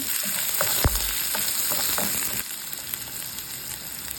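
Onion sautéing in a frying pan, a steady broad sizzle with scattered pops and stirring scrapes, loud and close, easing slightly quieter halfway through with no voices.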